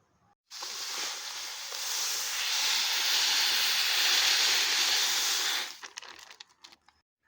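Steady rushing hiss of water washing white and black sand for an eel tank, loud and continuous for about five seconds before cutting off into a few faint splashes and clatters.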